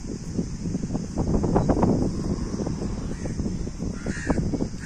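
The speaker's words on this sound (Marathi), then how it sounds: "कावळ्यांबरोबर खेळतोय" Several crows caw repeatedly on a sunny seashore beside a temple, loud and fairly close, over steady wind noise and rustling.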